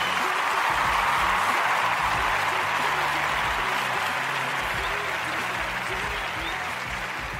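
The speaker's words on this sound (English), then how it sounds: "give the woman of God a great big hand clap" An audience at a church radio show claps and cheers for a pastor, a continuous steady wash of applause with a murmuring crowd that tapers slightly over several seconds.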